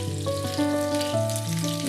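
Gola kabab, round meat kebabs, fry in a pan with a steady, close sizzle that runs without a break for about two seconds.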